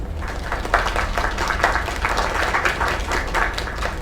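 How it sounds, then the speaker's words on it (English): Crowd applause in the video game Lake Ending, a steady wash of many hands clapping at moderate loudness for about four seconds, with no talk over it. "Another round of applause."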